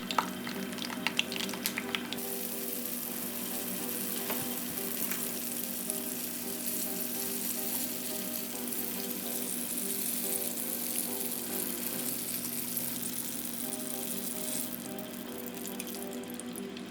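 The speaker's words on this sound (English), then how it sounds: "Deep fried vegetables for toppings" Vegetables deep frying in hot oil for curry toppings, a steady dense sizzle and crackle that runs throughout, with a few sharper pops near the start.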